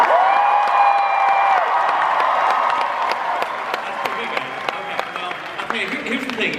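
A Comic Con panel audience cheers and applauds loudly throughout, a dense steady roar of clapping and whoops with a voice briefly audible over the crowd.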